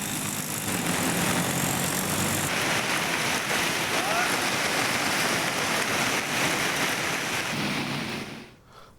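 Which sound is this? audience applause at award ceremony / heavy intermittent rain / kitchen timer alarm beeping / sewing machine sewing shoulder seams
heavy intermittent rain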